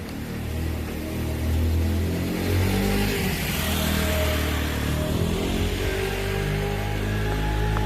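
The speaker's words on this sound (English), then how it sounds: "Oh no, motorbike." A motorbike engine revs and accelerates past on a city street, loud and close, rising over steady traffic rumble.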